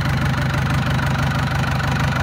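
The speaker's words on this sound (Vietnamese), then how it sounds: "Máy nổ nhiều máy mới" A Yanmar 4T100 engine runs steadily at close range, with a loud, continuous low chugging drone and a rapid knocking pulse that never lets up, and no voices over it.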